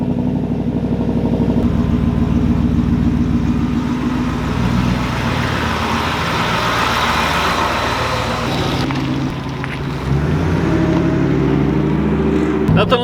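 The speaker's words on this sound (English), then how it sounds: "good old American Ford Shelby F-150, 770 horsepower," A Ford Shelby F-150 pickup with a 770-horsepower engine drives along in a loud, continuous rumbling drone heard from inside the cab, with the pitch shifting slightly as it goes.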